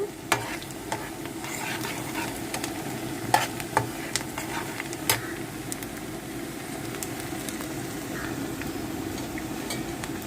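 Onions sizzle and crackle steadily in a hot pan as they fry until brown, punctuated by a few sharp clicks of stirring near the start.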